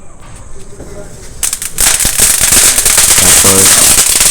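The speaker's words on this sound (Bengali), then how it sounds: "চটচটি বম আওয়াজ প্রচুর ছিল এটা" Chatchati bomb firecrackers burst during Diwali, beginning with a faint hiss and then erupting into a loud, dense, continuous crackle of rapid snapping pops nearby, with voices faintly in the background.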